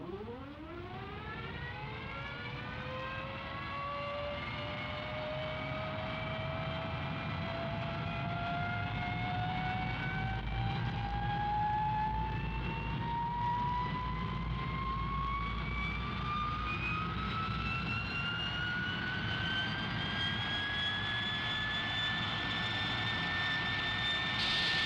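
A jet engine spools up in Lanarkshire, its rising whine climbing steadily in pitch over a roaring rumble, loud and sustained throughout with no talk.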